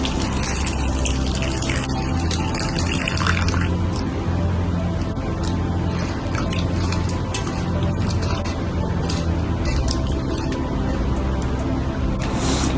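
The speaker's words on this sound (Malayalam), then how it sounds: "1/2 കപ്പ് പരിപ്പെടുത്ത് നന്നായി കഴുകിയെടുക്കണം." Half a cup of sambar dal lentils is washed in water in an Indian kitchen, with continuous running and splashing water and faint mechanical hum throughout.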